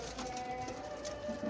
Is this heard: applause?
no